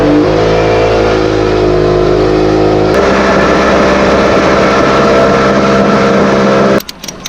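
A loud jet boat engine on a river drones close by, its pitch shifting as it revs up midway, then cuts off abruptly near the end.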